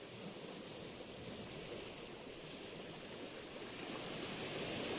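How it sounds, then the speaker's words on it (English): Soft, steady ocean water and wind ambience in Minecraft Bedrock with a realism texture pack, heard over an ocean near ice spikes; a continuous broadband wash with no voices, swelling slightly near the end. "there is a soft sound because we're in like over an ocean, or at least on ice spikes. We do have wind, we do have water"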